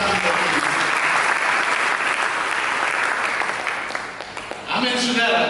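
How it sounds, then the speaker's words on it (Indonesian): A church congregation at a Christmas service breaks into loud, sustained applause that fills the room. It dips briefly near the end before swelling again, with voices mixed in. "Mari kita berikan tepuk tangan."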